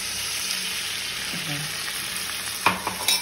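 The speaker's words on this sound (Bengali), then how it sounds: "এবার এটাকে ভালো করে একটু কষিয়ে নেবো আগে।" A spiced masala mixed with spiced water is fried and stirred in a pan, giving a steady low sizzle with a few sharp clinks of the spoon against the pan near the end.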